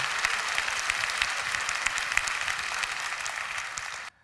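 An audience at a Christian prayer gathering bursts into sustained applause, a dense, even crowd clapping heard from within the hall that cuts off abruptly at the end.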